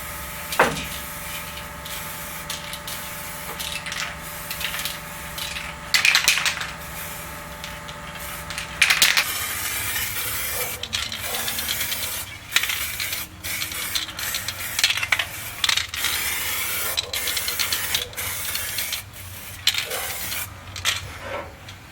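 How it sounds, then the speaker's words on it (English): Short bursts of aerosol weld-through primer hiss onto the trunk floor of a 1971 Charger, broken up by clicks, knocks and handling noises in a workshop. "we're going to put primer. Weld through primer, at least get some protection here."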